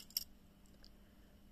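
Stiff scissors on a copy of a Victorinox pocket knife being handled, a sharp metallic snip-like click near the start followed by fainter small clicks, close and quiet with no talk.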